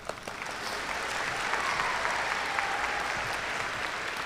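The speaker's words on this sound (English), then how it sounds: "y'all can clap." At a graduation ceremony an audience claps steadily as National Honor Society members are recognized, a full, even wash of applause that holds for several seconds.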